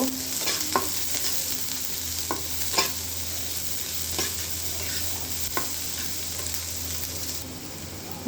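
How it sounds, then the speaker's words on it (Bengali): Chopped onion frying lightly in a pan for a mustard mash, a steady close sizzle broken by regular spatula scrapes and taps as it is stirred, with no talking. "কেটে রাখা পেঁয়াজটা দেওয়ার পরে সামান্য একটু ভেজে নেব"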